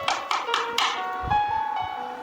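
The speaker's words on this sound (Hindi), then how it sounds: "जो ही रात हुई घर के दरवाजे पे दस्तक हुई" Sharp knocks on a house door at night, four quick raps close together followed by a few softer thuds, loud and near with no talk.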